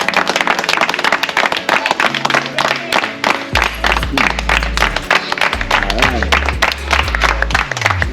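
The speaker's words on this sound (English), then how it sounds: "so we'll give them a round of applause again" A round of applause from a small gathering honouring donors, scattered clapping running throughout while people talk over it nearby.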